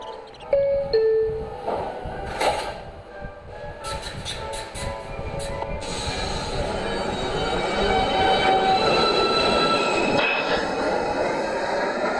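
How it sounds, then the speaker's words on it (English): A Manhattan-bound 2 train on the New York City subway in 1997 rolls along the tracks with rumbling wheels, metallic squeals and clatter building to a loud steady roar, while brief announcements and voices are heard over it. "This is a Manhattan-bound 2 train."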